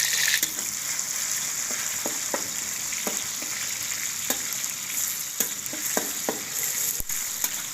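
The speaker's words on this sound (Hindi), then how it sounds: "प्याज हमने अच्छे तरीके से इसको फ्राई करना है।" Onions sizzle steadily in a karahi for Kashmiri-style mutton karahi, with a constant frying hiss broken by repeated clinks and scrapes of stirring.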